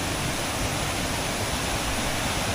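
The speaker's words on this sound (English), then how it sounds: "This is the waterfall in the background." A waterfall in Crumlin Glen, County Antrim, gives a steady, dense rush of falling water that fills the whole stretch evenly without any break.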